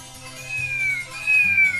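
A cat meows twice in quick succession, close and clear, each call a drawn-out, slightly falling tone with no one speaking.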